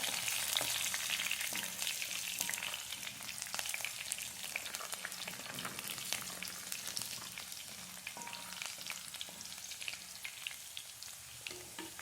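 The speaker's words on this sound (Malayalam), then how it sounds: "ഇഞ്ചി ഇട്ട് കൊടുക്കാം പച്ചമുളക് ഇട്ട് കൊടുക്കാം രണ്ടൊന്ന് നന്നായിട്ട് മൂക്കട്ടെ" Ginger and green chillies sizzle softly in hot oil in a pan, a quiet steady frying crackle with occasional stirring clicks.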